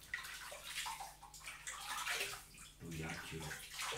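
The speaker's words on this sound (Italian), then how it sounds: "Allora andiamo a bagnare con l'acqua calda" Hot water runs from a tap to wet a shaving brush, a steady rushing splash with shifting gurgles, heard close and fairly quiet.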